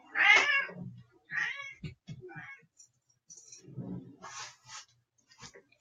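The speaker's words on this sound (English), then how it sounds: "my cat is meowing" A house cat meows loudly close by, one long meow followed by a few shorter ones, with soft rustling and handling noises in the pauses.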